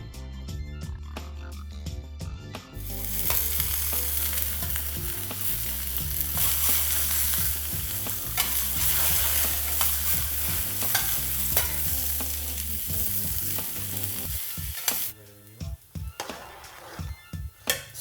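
Cauliflower florets fry in a pan, a loud continuous sizzle with the scrape and clatter of stirring repeated throughout, before the sizzle fades near the end and a few sharper knocks follow.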